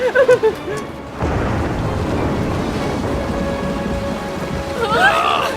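Heavy rain pours steadily during a cartoon storm at sea, with a low rumble of thunder, after a brief burst of louder sound at the start; no talk over it.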